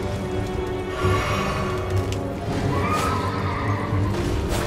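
A horse neighs and whinnies repeatedly amid Elden Ring game background sounds, with a faint clip-clop of hooves underneath; fairly loud and continuous.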